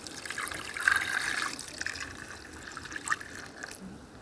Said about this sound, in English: Now I'm going to add some water on it to get the milk out of it.